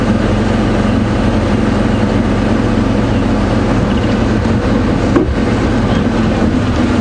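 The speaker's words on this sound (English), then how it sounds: "Again, always important, let the car run for a few seconds." A safari vehicle's engine idles steadily at Djuma Game Reserve in the early morning, a constant low rumble that stays loud and even throughout, with one small bump near the end.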